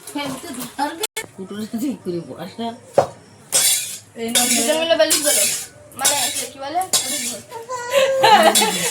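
Pots, a wok and cutlery clatter and clink in a busy family kitchen in the Sundarbans while luchi, aloo dum and coconut laddoos are made, with loud voices and singing over the intermittent metallic knocks.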